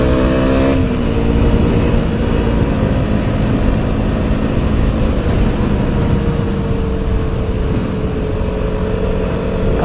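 A KTM Duke 200 BS3 motorcycle engine revs up close, a loud, continuous buzzing roar that climbs in pitch at first and then holds steady at high revs, without speech.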